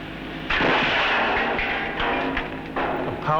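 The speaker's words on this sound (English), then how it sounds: "They're going to fire the gun again, using a dozen ordinary builder's bricks as the target." A powerful rock-breaking gun in Siberia fires at a target of a dozen ordinary builder's bricks, a heavy close blast followed by rumbling debris and a second sharp burst near the end.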